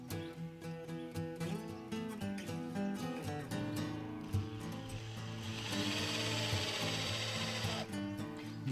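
A power drill drives screws into the axle of a downhill dragster during assembly, with a steady motor whine that rises in pitch and continues close and loud without talk.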